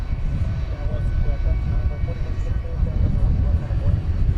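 An American Airlines Airbus A321 jet at DFW airport at night gives a steady low roar, broad and rumbling, that holds throughout at moderate distance while a person talks over it.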